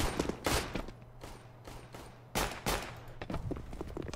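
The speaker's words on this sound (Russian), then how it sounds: "Слышим выстрелы, где-то война происходит, а где непонятно." Rapid bursts of automatic gunfire from a Counter-Strike match on the de_train map, several loud volleys separated by quieter gaps, with a faint background hum.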